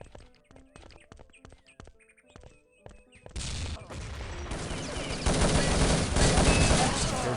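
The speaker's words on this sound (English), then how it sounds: "And Logic with that P90 being incredibly accurate" P90 gunfire in a multiplayer shooter match: scattered sharp shots and clicks at first, then a loud, dense, continuous barrage of rapid fire that builds and keeps going.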